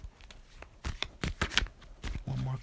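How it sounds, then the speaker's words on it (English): Tarot cards are shuffled by hand in several quick riffling bursts, close and fairly soft, with brief pauses between them. "Let me go ahead and shuffle."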